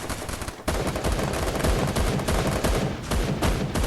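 Rapid gunfire from a mobile shooting game, loud and dense, bursting in abruptly after a brief quiet start and continuing as a steady stream of shots to the end.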